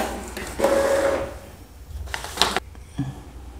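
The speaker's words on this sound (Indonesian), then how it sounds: "Kita bisa dengarkan bersama-sama kalau printer sudah cetak." Mechanical whirring and sliding sounds of an Epson L3110 inkjet printer at work after a mainboard fuse replacement, with a brief tonal whine and shuffling paper-feed noises, close by.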